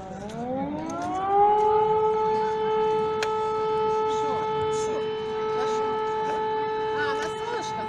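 A civil defense siren wails outdoors on an embankment, rising in pitch over the first seconds and then holding a loud, steady tone throughout, with faint voices beneath.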